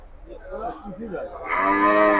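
A local bull at the Gabtoli cattle market gives a loud, close moo lasting under a second, after a moment of murmuring voices.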